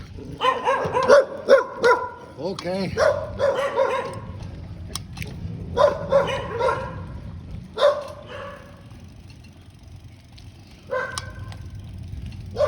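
Several dogs bark in Thailand, with repeated loud yips and barks in irregular bursts, some overlapping, and a brief whimper. There are quiet pauses between outbursts, and a person speaks briefly.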